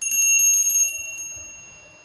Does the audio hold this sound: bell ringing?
yes